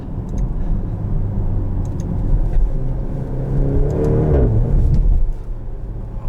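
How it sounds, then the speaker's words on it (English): A 2023 Maserati Grecale Modena Limited Edition accelerating hard from inside the cabin, a steady loud engine rumble and whir rising in pitch, with a brief shift and the engine note climbing again near the end. "The way it shifts at upper RPMs, this transmission's the tale of two different modes."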